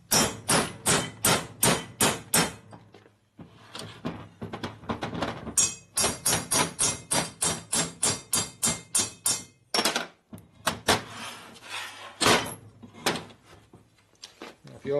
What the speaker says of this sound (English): So you just beat these out with a hammer.